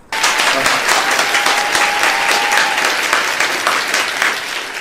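An audience applauds warmly for a guest speaker, Dr. Bram, after a talk on cooking; the clapping starts abruptly and then holds as a loud, dense, sustained wash of many hands before easing slightly toward the end.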